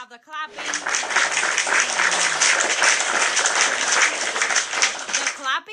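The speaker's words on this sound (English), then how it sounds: "you have the clapping." Canned clapping sound effect from a live-stream app, a dense crowd-style applause burst lasting several seconds, loud and close, with brief speech at the start and end.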